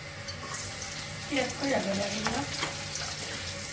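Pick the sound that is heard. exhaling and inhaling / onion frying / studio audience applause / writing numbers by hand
onion frying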